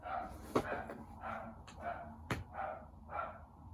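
A pet dog barks and yips in a rapid run of short, fairly close bursts, about six in under four seconds, with a couple of sharper knocks in between.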